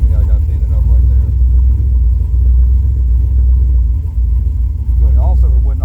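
A turbocharged Chevelle running Holley EFI rumbles at a steady loud idle throughout, with a brief rev near the end, while people talk over it.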